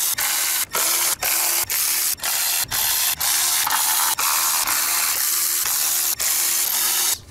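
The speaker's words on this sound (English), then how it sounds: "And loosen the bolts that hold the valve cover in place." A ratchet loosens the bolts holding a BMW valve cover, giving a rapid, steady clicking broken by short pauses between bursts, close and clear with no talk.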